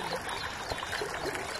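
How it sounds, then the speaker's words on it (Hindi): Water of the Banas river in Rajasthan flows and trickles as it fills a riverbed, giving a steady, soft broadband wash with faint gurgles, fairly quiet and without talk. "पानी धीरे धीरे आवाज़ करने लगा है।"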